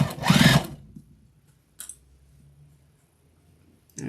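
Sewing machine back stitching fabric for a bowl cozy, a short loud burst of motor whir and needle chatter, then quiet with a faint brief mechanical tap and a soft hum.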